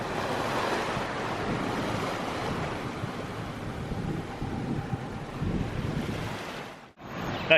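Ocean waves and wind rush steadily around a sailboat under way in the turquoise waters of the Exumas, a broad continuous wash of surf and wind buffeting the microphone, loud throughout before a brief dip near the end.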